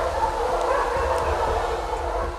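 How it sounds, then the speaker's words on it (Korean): Hunting dogs bark as they chase a wild boar through the Korean hills, the barking distant and partly buried under steady background noise, while a voice speaks over it. "사냥개 짖는 소리가 점점 가까워집니다."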